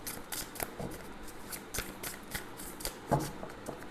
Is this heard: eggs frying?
no